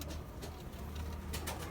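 Mardin pigeons cooing in low, soft, repeated murmurs beneath a steady wash of background noise.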